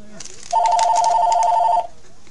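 A telephone rings in an office during a hockey card box opening, one loud electronic trill of about a second and a half that stands out clearly over light background noise.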